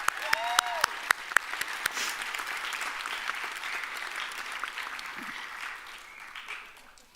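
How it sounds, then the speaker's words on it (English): An audience at a college pinning ceremony applauds: a few sharp near claps at first, then steady, dense clapping that slowly fades toward the end. "So if we give a round of applause for them once more"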